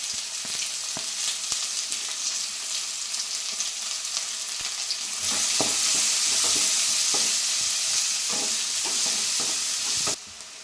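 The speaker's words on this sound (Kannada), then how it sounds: "2 ಈರುಳ್ಳಿ ಹಾಕಿ ಗೋಲ್ಡನ್ ಬ್ರೌನ್ ಆಗೋವರೆಗೂ ಹುರ್ಕೊಳ್ಳಿ" Sliced onions frying in hot oil in a pan for aloo mushroom gravy, a steady close sizzle with intermittent stirring scrapes, growing louder midway and cutting off near the end.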